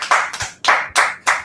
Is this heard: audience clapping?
yes